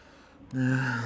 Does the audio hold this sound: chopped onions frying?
no